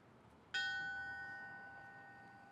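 A single memorial bell at a fallen firefighter memorial ceremony in Edmonton, Alberta, is struck once, and its bright metallic tone rings on and slowly fades with no talking over it.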